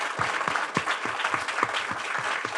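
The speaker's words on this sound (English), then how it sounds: "Guys, round of applause for Joe Terranova, please." Audience at a live talk show recording in New York City giving a round of applause, crisp individual claps in a quick uneven rhythm, moderately loud and close, with no voices over it.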